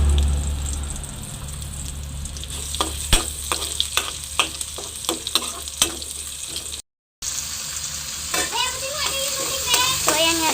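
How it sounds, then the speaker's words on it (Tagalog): Tomatoes and pan-fried tofu sautéing in a pan give a steady sizzle and frying hiss, with scattered sharp clicks and scrapes from stirring utensils. A brief gap interrupts the sound before the sizzling resumes louder. "So, ayan, magigisa na muna tayo guys."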